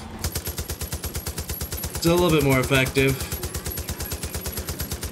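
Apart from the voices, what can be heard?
gunfire shooting at a truck in Far Cry 5 video game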